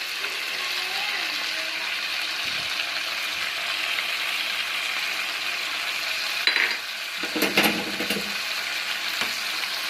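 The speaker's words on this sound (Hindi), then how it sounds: "चिकन ऐड करके इसको अच्छी तरह हम फ्राई कर लेंगे" Chicken pieces frying with ginger garlic paste for a Shimla mirch chicken dish, giving a steady broad sizzle close up, with a few clattering stirs and scrapes near the end.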